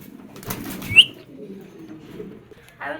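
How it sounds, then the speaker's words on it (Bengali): Silver checker racing pigeons, a paired female among them, make a few low coos and a brief flutter of wings close by, with a short sharp chirp and quiet gaps between sounds. "এই যে এটা হচ্ছে মাদি কবুতর"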